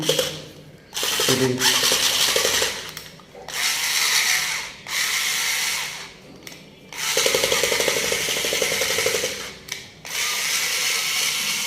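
Electric screwdriver driving screws into an electrical switchboard, a loud steady whirring in repeated bursts of one to three seconds with short pauses between them, close at hand.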